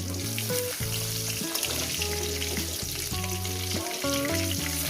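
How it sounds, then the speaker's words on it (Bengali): Pieces of katla fish fry in hot oil with a steady, close sizzle and crackle, heard under continuous background music. "আমি এখানে দুটো করে ভাজবো"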